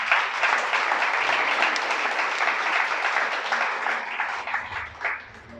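Steady applause from a congregation at a Shabbat service, a dense wash of clapping that holds evenly and thins slightly toward the end, with no voices over it.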